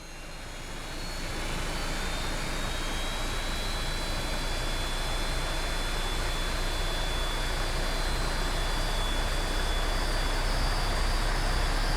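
In MSFS 2020, the turbine engine of a Westland Scout helicopter spools up from quiet to a steady, rising rush with a thin high whine, alone with no talk.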